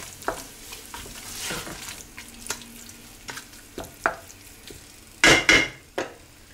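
Tomato paste fries in a pot for lamb tagine under a soft sizzle, while a spoon stirs and knocks against the pot in scattered scrapes and clanks, with a sharp burst of clatter near the end.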